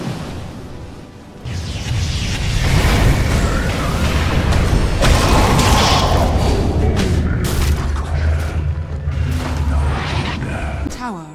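Dense, continuous battle noise from a Dota 2 tournament match as the Radiant bottom tower is attacked: booming impacts, spell bursts and clashing mechanisms layered loudly throughout, with voices mixed underneath.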